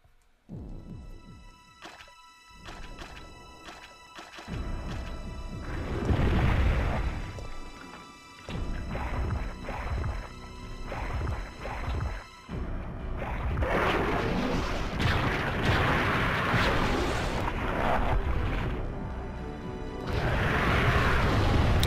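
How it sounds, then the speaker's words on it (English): Grenade launcher fired at Nemesis in Resident Evil 3, heavy blasts and crashing impacts rising over dense game music and effects, with several louder bursts spread across the stretch. "to keep Nemesis at bay, I think we're gonna make use of the um, grenade launcher"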